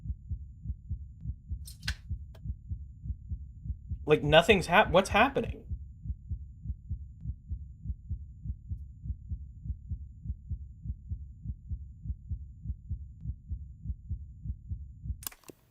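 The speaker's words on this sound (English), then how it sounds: "I hear my heartbeat" A steady, low heartbeat pulses in a video game, repeating evenly and close for about fifteen seconds, with a short stretch of talking over it partway through.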